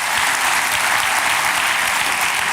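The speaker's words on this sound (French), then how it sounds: "Applaudissons le Seigneur." A church congregation applauds during a French-language sermon, dense, loud, even clapping from a large crowd that holds steady without a break.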